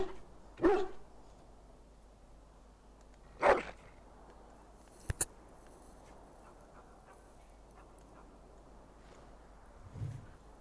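A dog in the fantasy RPG Dragon Age: Origins gives a few short, separate barks spread over several seconds against a quiet game background, with no talking.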